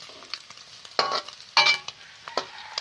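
Pork and pork fat rendering in a pan crackle and sizzle with a few bursts of stirring, short close scrapes and spits against a soft frying hiss.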